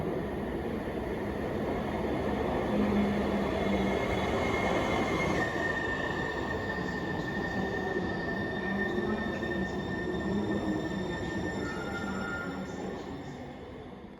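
A train pulls into City Center Station, with a steady loud rumble of rolling wagons and thin wheel squeals throughout, easing slightly toward the end.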